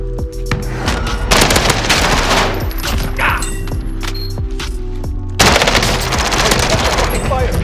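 Loud, sustained automatic gunfire from Modern Warfare Resurgence mode, with rapid bursts of shots, booming impacts and overlapping fire from several weapons, continuing almost without pause and briefly easing before another heavy volley.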